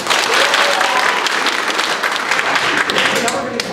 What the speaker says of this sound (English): give it a nice little clap, like a golf clap